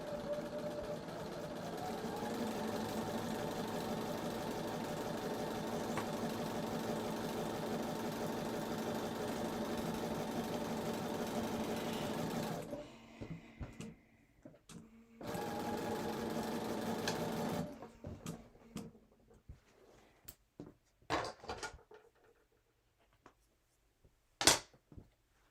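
A sewing machine stitching a seam on a Halloween quilt, a steady close mechanical whir that runs for about twelve seconds, stops, runs again briefly, then gives way to scattered handling clicks.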